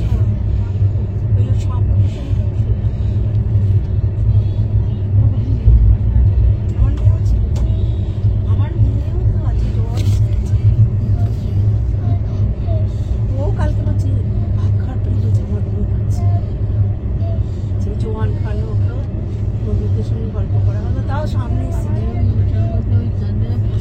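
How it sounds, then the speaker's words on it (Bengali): Puri-Sealdah Duronto Express 2AC coach passing Sakshi Gopal station in the dark: a steady, loud low rumble of the moving train with clattering rail noise throughout, heard from inside, with voices mixed in. "এটা সাক্ষী গোপাল ক্রস করছে আমাদের ট্রেন, সাক্ষী গোপাল রেলওয়ে স্টেশন"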